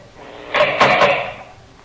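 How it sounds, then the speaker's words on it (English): Prison cell door opening as a radio drama effect, a single sliding metallic scrape and rumble swelling up, holding about a second, then fading, close and fairly loud. "guard, open the cell door."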